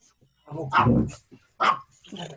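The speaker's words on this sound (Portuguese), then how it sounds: "O cachorro começou a resolver latir logo agora." A dog barks in a few sharp bursts, close by, with short pauses between them and a voice speaking around the barks.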